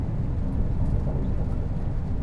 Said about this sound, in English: Rain seems to be getting heavier.